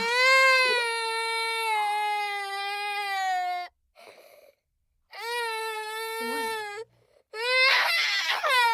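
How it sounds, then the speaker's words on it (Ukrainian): A toy doll cries in long, wailing sobs with brief gaps between them, loud and close, heard alone with no talk. "А сумна лялька плаче"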